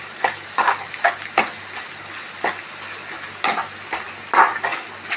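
Coconut-laced spice mixture frying in a pan, with a soft steady sizzle broken by repeated scraping stirs of a spoon against the pan, no voices.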